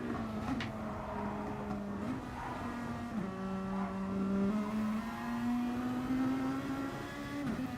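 Racing cars in the Dragon Trail Seaside circuit game drone steadily along the start-finish straight, one car slipstreaming close behind another, engine pitch rising gradually as they accelerate, a continuous loud engine tone without pause.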